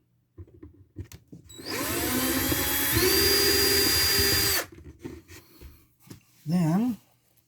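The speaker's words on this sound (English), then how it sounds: "Don't want to drill through the front." A power drill bores a hole while a child safety latch is installed, with a few soft knocks and then a loud, steady whine for about three seconds that stops abruptly, followed by brief handling noises and a short voice-like sound.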